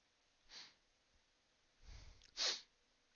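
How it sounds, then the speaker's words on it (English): A single sneeze from someone with a stuffy nose indoors, preceded by a short sharp inhale and a brief breathy build-up, then the loud burst close to the microphone. "Excuse me, I'm gonna sneeze."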